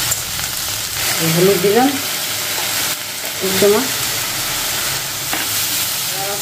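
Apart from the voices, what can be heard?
vegetables and onion frying in a pan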